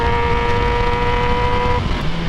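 A 2017 Kawasaki ZX10R sport motorcycle accelerating hard in second gear, a loud close engine roar whose steady high-pitched whine climbs and then shifts near the end.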